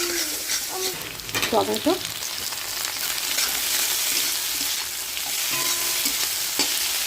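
Chopped onion and chili frying in a pan, a steady bright sizzle with stirring scrapes throughout, close and loud, while a person briefly talks over it.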